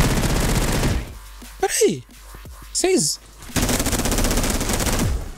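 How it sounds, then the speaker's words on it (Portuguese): Enemy gunfire in the FPS game Energy Assault comes as sustained rapid automatic bursts at the start and end of the clip, with a short spoken interjection and a couple of whooshing effects in the lull between. "Ele tá atirando em mim, gente."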